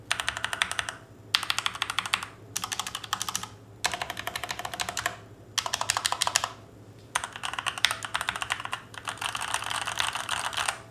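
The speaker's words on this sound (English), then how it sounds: "The overall keyboard sounds really good in stock form." Fast typing on a stock tenkeyless mechanical keyboard with linear switches comes in bursts of dense clacks, separated by short pauses, close and crisp.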